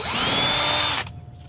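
A power drill bores into an old oil filter, giving a loud steady high whine for about a second before it cuts off abruptly and leaves a quiet decaying tail.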